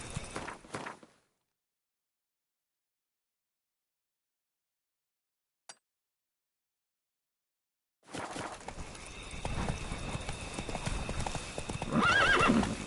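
Geralt's horse Roach gallops in The Witcher 3: Wild Hunt Blood and Wine, with rapid hoofbeats that cut out into near silence and then return steady and loud, close by, with a short whinny-like cry near the end.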